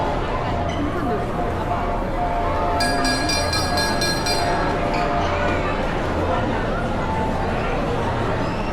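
A train rumbles steadily nearby with rattling wagons and a brief metallic clinking, while people talk over the noise.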